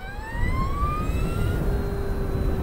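An Energica Experia electric motorcycle's motor gives a rising, tonal whine that climbs in pitch as the bike accelerates, heard clearly over a steady rumble of wind and road noise.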